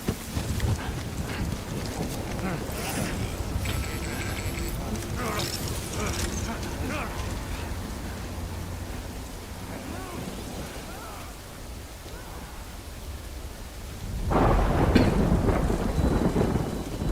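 Steady video-game rain and storm ambience fills the scene, with rumbling thunder-like swells and creaks under it, and a heavier downpour surge near the end; no talk over it.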